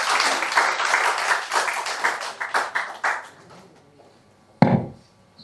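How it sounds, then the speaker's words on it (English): A workshop audience at a session on Nigeria's rebased GDP and CPI claps in a brisk burst that thins and fades over a few seconds, followed by a single soft thump. "Please, another round of applause for the Statistician General of the Federation"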